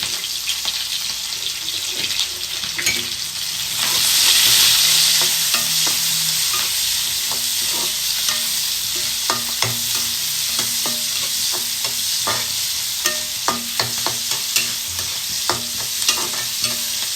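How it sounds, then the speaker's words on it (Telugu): Sliced onions and green chillies sizzle loudly in hot oil while a spatula scrapes and stirs them, with a steady hiss broken by regular clinks and scrapes; a brief running-water splash rises partway through. "ఉల్లిపాయలు పచ్చిమిరపకాయలు వేసేస్తాం."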